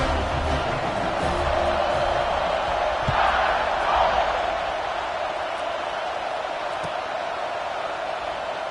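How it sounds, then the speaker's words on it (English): Stadium crowd in the College Football 26 video game keeps up a steady, broad roar, swelling briefly into louder cheering midway before settling back to a constant wash of noise. "They're set to kick it off, and this crowd now ready to get behind them."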